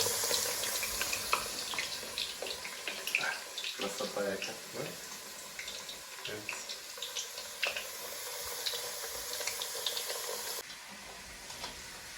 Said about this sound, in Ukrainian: Обсмажуємо нашу картопельку ось до такого стану, для того, щоб запечатати її.